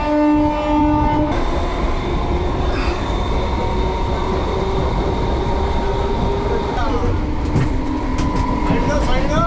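A local train running from Panskura to Howrah pulls into the station. A loud horn blast sounds at the start, then a steady rumble and clatter of rail cars continues throughout, with voices faintly beneath.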